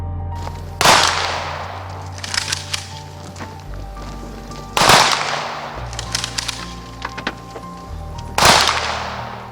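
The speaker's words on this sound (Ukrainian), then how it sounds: "пролунав традиційний військовий салют" Three sharp, loud rifle volleys of a military funeral salute at a cemetery in Kryvyi Rih, fired at even intervals several seconds apart outdoors, each cracking and then echoing away, with a low hum in between.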